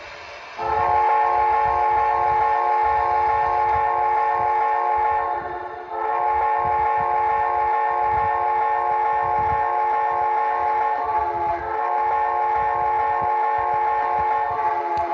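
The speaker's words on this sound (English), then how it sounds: "It's a pretty good whistle." A long, steady multi-tone whistle from an HO scale Southern Pacific GS4 model locomotive sounds loudly, briefly dipping and resuming twice, with faint mechanical rumble beneath.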